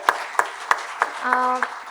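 Audience clapping for the organizers at a course gathering: evenly spaced individual claps ring out in a steady rhythm, fairly close, with a brief voice-like tone in the middle.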